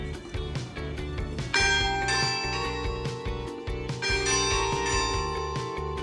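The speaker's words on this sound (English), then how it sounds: "we timed our entry so that we could be up in the bell tower when it rang" Loud church bells ring up close in a bell tower in Iceland, struck repeatedly with rich overlapping tones that swell and linger.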